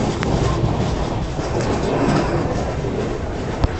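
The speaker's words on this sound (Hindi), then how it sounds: "दोस्तों 2 मिनट के बाद डिपार्चर हो चुका है हमारी आंध्र प्रदेश एक्सप्रेस का चंद्रपुर से" The Andhra Pradesh Express departs Chandrapur station with a loud, continuous rolling rumble, a faint sharp click breaking through near the end.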